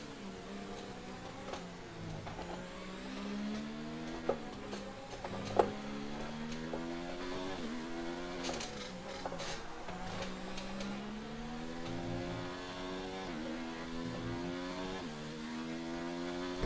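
A Formula 1 car from F1 2019 drives a practice session at Singapore, its engine whining up and down through repeated gear shifts, with a few sharp clicks and knocks along the way.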